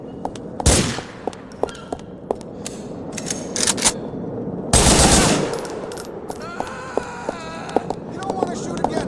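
Bursts of gunfire in Grand Theft Auto IV: scattered single shots, then two loud close volleys, followed by a rapid crackle of distant automatic fire, with voices shouting now and then.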